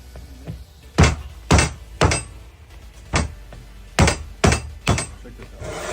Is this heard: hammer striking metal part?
yes